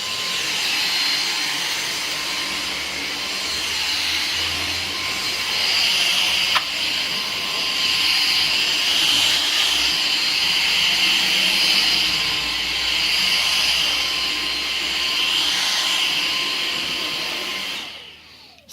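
A Dyson V6 cordless vacuum with its motorised brush head runs continuously at close range, a loud steady whirring whine with slight fluctuations as it moves over the floor, cutting off abruptly at the end.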